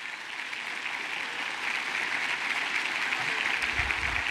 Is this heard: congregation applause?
yes